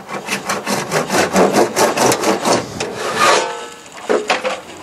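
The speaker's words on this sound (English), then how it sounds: "Now we'll just trim off the piece of pipe inserted through the back of the cistern." A saw trims plastic ventilation pipe behind a toilet cistern with a rapid rhythmic rasping of quick strokes, close and loud, slowing and fading toward the end.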